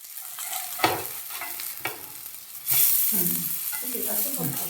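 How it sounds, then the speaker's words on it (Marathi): Surmai fish coated in rava fries on a tawa in little oil, giving a soft crackling sizzle with spatula scrapes and taps as pieces are turned; the hiss grows louder midway, close and fairly quiet. "दोन्ही आपण उलटे केलेत आता कारण आपण एका बाजूने छान अगदी सगळा भाजून घेतला नंतर दुसऱ्या बाजूने आपण भाजून घेतोय"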